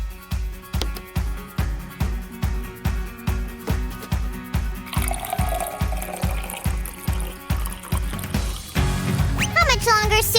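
A homemade cardboard Minion fountain machine pours a drink, with liquid trickling and splashing under a loud, rhythmic thumping music beat.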